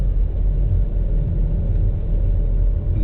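A utility crew's vehicle passing on a road after storm repairs, a loud, steady low engine rumble close by, with no voices.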